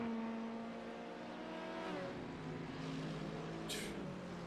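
A BMW sports car racing on a track in a GT sports car series, engine tones rising and falling as it accelerates and passes, fairly distant, with more cars audible in the background.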